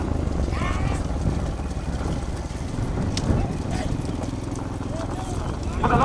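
Bulls pulling a cart thunder along in a bullock cart race at a rural track, giving a steady rumbling of hooves and wheels under continuous loud commentary and crowd noise.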